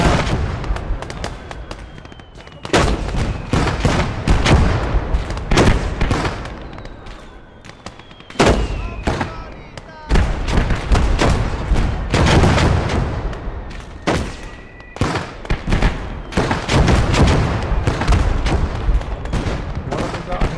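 Mortar fire in the war video game Blood Red Snow, dense loud bursts of explosions and gunfire in rapid, overlapping volleys with a couple of brief lulls and faint voices mixed in.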